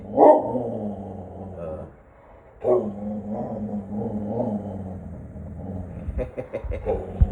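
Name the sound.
dog barking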